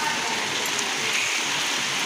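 Heavy rain pours down steadily during a storm, a dense continuous hiss of drops hitting surfaces, close and unbroken throughout.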